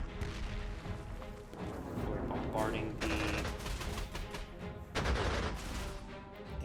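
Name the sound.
artillery bombardment in video game Panzer Corps 2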